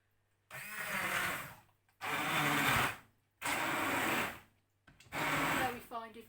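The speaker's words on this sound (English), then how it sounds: "just get this out and whiz it up" A handheld stick blender whizzes damsons in four loud, steady bursts of motor whine, each lasting about a second with short silent gaps between them, heard up close with no talking.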